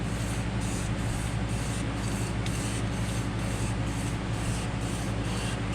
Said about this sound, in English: we'll show you the actions that we go through of clean or polishing this crank